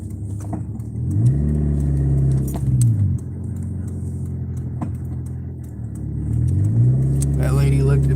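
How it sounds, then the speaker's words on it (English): A car engine revs up to a high, whining pitch twice, each surge rising, holding and dropping back to idle, loud and close inside the vehicle with no speech over it. "I have a vehicle that likes to high rev."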